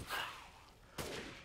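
Gunfire in Resident Evil Village, two sharp shots about a second apart, the first followed by a ringing tail, fairly quiet overall.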